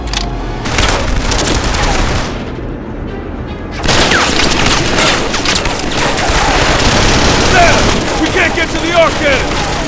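Machine gun fire in the Killzone 3 video game, loud dense bursts with booms and crashes, a short lull, then sustained firing resuming in a chaotic battle.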